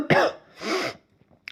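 Two short throat-clearing coughs from a man teaching a live ancient history lesson in Hindi, close to the microphone, followed by a faint brief click.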